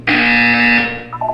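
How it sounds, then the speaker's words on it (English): A buzzer sounds once in the Portal 2 video game on Xbox 360, a loud, harsh, sustained electronic tone lasting nearly a second before fading, alone. "You will hear a buzzer."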